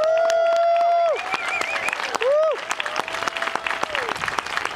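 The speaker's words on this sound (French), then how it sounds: "on doit applaudir la Bélugang qui s'est formée ici en moins d'un mois" Audience applause at a public meeting in Tadoussac opposing an oil port, crowd clapping that builds under and after a loud tonal whistle or feedback sound, with some voices.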